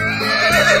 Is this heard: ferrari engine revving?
no